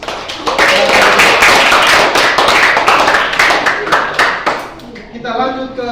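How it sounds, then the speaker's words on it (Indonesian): Audience at a Indonesian teacher-training group presentation session applauding, a dense burst of close hand claps lasting several seconds before tapering off, followed by a voice speaking. "Terima kasih, kita berikan aplaus."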